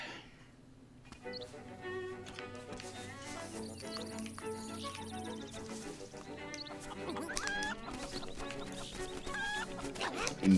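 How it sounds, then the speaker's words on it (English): Chickens cluck and squawk in The Legend of Zelda: Link's Awakening, their calls scattered over steady game music that plays throughout and grows busier toward the end. "immediately proceed to bully several chickens"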